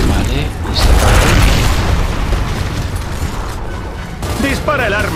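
Heavy weapon fire and booming blasts in Gears of War, a loud continuous roar of bursts and explosions with a voice talking briefly over it.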